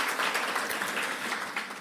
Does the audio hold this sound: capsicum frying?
no